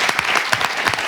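Lively applause from an audience at a French show, dense clapping with a few sharper peaks, loud and continuous for about a second.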